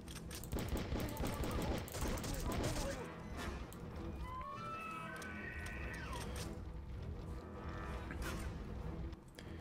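Rapid gunfire crackles in the video game Outcast as an enemy shoots from a distance, dense bursts loudest at first, then lingering under game sounds and a voice.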